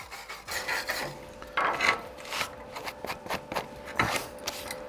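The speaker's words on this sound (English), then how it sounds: "Take your wire brush, clean it up." A wire brush scrubs flux off a fresh flux-core weld joint, giving close, repeated rasping strokes in an uneven rhythm with no talk.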